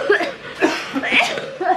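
Several short, harsh coughs in quick succession, close to the listener, mixed with breathy chuckling sounds.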